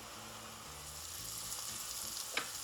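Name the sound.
mushrooms sizzling as they caramelize in a pan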